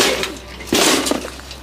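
Glass breaks as a toaster oven is smashed, with two sharp, loud crunching bursts a moment apart over a rough background clatter.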